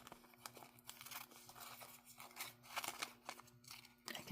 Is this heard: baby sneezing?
no